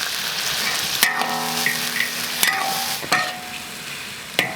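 Duck pieces stir-fry in a hot wok with a loud, constant sizzle, and a few sharp metallic scrapes and clanks come from the spatula as the meat is tossed. No one speaks.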